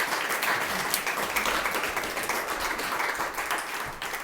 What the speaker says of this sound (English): Would you guys give a round of applause for Dr. Henry Skerritt?